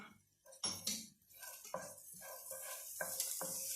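Thinly sliced garlic and a knob of butter dropped into a hot pan, giving a sizzle alongside clattering and scraping of a utensil against the pan in irregular bursts, close and fairly loud.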